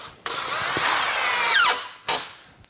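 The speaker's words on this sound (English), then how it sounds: "And screw it to the wall." Cordless power drill driving a screw through a pre-drilled wooden strip into a wall, a loud close whine rising and slowing for about two seconds, then a short final burst as the screw seats.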